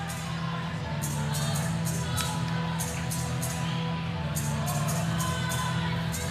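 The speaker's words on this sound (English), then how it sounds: "This has been a phenomenal crowd." A packed arena crowd at a Georgia Tech vs. Louisville ACC women's volleyball match roars and cheers continuously, a dense, loud, sustained wall of noise with sharp rhythmic bursts of clapping or noisemakers.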